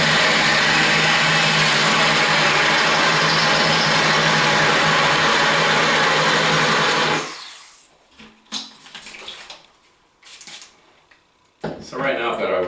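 A drill bit grinding into porcelain tile at low speed, water added to cool it, with a steady loud whir for about seven seconds before stopping, followed by quiet handling noises and brief bursts of drilling.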